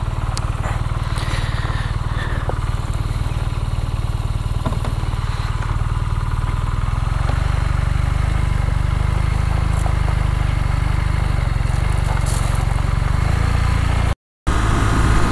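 BMW R nineT motorcycle engine running steadily at close range, a low rumbling drone with some mechanical clatter that holds for about fourteen seconds before a brief dropout and then resumes.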